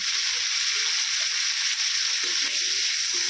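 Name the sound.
cut hog plums (amra) frying in oil with salt and turmeric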